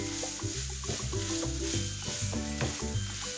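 A potato, pea and curry samosa filling is stirred in a hot pan, giving a steady sizzle with scraping stir strokes, set against background music.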